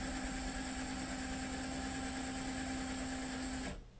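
A motor-driven lead screw, part of a landing gear mechanism, runs with a steady mechanical hum and whine, then cuts off abruptly near the end when it reaches the stop relay.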